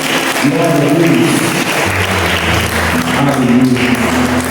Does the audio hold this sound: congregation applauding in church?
yes